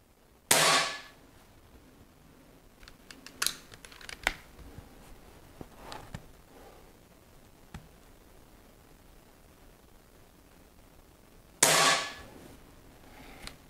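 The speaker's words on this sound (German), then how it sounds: "Ihr hört schon, dass die Pistole recht laut ist." Two loud, sharp shots from a Reximex RP air pistol during test firing, one near the start and one near the end, with quiet handling clicks and small knocks between them.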